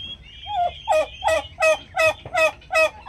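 Broad-breasted black bronze turkeys call in a rhythmic run of about six loud, close, evenly spaced bursts, with no talking.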